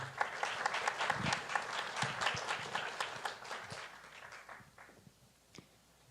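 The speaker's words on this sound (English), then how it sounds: "A big round of applause for Emilia Moreno, who is our first one." A crowd at the Falling Walls Lab Ecuador 2025 event claps in a dense, lively burst of applause that gradually thins out and fades toward the end, with a few scattered final claps.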